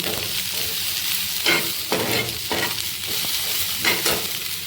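Onion frying in only a little oil: a steady soft sizzle runs throughout, broken by several slower, close scraping stirs of a spatula across the pan, with no one speaking.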